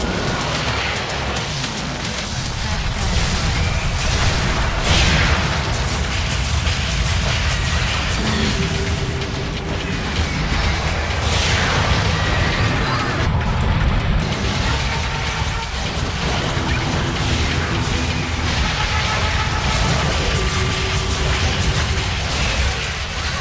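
Chaotic battle din from the video game Sanctum 2 during a survival wave, with explosions, bursts and gunfire piling up loud and continuous, mixed with game music and no talking.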